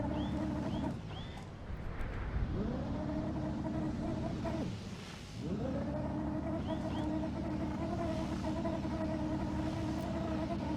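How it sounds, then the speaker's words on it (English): Vehicle engine in the game Trailmakers straining in water, a steady droning motor that dips twice as the pitch sags and then climbs back up, holding a continuous moderate rumble throughout. "I hear the engine trying to go."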